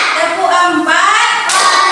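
Students in an Indonesian classroom clap their hands together in a dense, steady patter that fills the whole clip, loud and close, with no talking over it.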